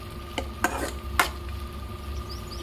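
Tomatoes frying in a pan for tomato-mint chutney are stirred with a utensil, a few short scraping strokes over a steady low sizzle, close and fairly quiet.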